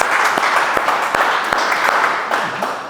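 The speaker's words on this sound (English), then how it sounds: "Clap it up?" An audience at a real estate talk claps in a brief scattered round, with several sharp individual claps standing out over a dense wash of applause, fairly loud and fading slightly at the end.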